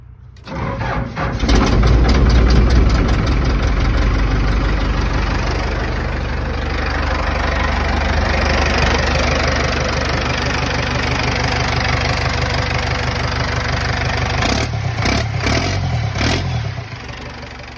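A Cummins 4BT diesel engine swapped into a Ford F100 runs rough: a loud, close, uneven knocking idle lasting throughout, with a few sharp surges near the end before it settles.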